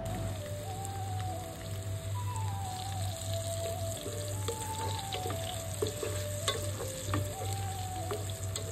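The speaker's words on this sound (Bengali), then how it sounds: "পেঁয়াজটা যখন হালকা ভাজা হয়ে যাবে তখন আমি রসুনটা দিয়ে দিব।" Onions frying lightly in a pan for a red amaranth and shrimp dish give a steady, close, dense sizzle throughout, with soft melodic music playing in the background.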